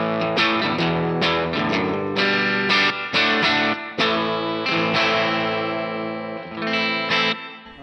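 An electric guitar plays strummed chords and single notes through the room reverb setting of a Strymon Blue Sky pedal, each sound ringing out and decaying into the space.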